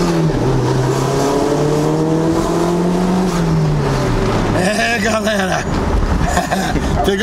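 A Toyota MR2 Turbo's engine drones steadily as the low car drives, with the pitch rising and falling through acceleration and a gear change, heard from inside under continuous conversation.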